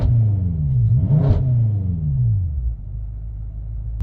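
A 2013 BMW M5 engine running on a test drive, a deep close rumble whose pitch sweeps up and down through a brief rev before settling into a steady drone.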